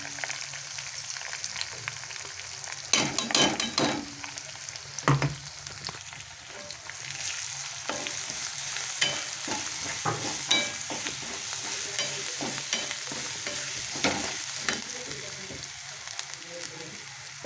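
Ground peanut paste fries in a pan with a continuous sizzle, broken by frequent scraping and knocking as a spoon stirs it close by.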